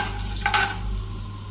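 Whole spices such as cloves being fried and stirred in a pan over a low flame while cooking restaurant-style matar paneer, a soft steady sizzle with a brief scraping stir near the middle, close and without talk.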